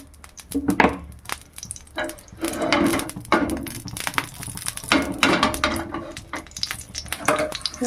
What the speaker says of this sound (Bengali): আমি এখানে একটা তাওয়া নিয়েছি তাহলে কুমড়োগুলো ভাজা ভাজা ভালো হবে একটু তেল দিয়ে দিলাম